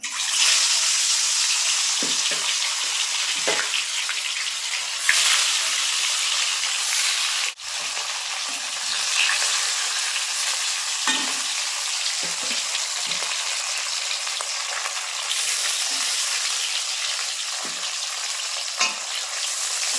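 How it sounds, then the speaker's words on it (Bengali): Pieces of rupchanda (pomfret) fish frying in hot oil, giving a steady close sizzle with occasional bursts of spattering and stirring, and no voices. "তেল খুব ভালোভাবে গরম হয়ে গেছে এখন মাছের পিসগুলো দিয়ে দেবো"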